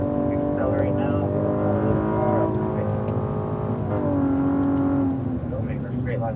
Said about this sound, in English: Robert, here's the speed through, accelerate now